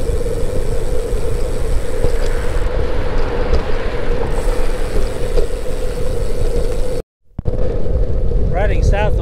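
Heavy, constant wind buffets the microphone during a bike ride along a tree-lined trail in a 23 mph wind, a loud roaring rumble with one brief dropout before it surges back.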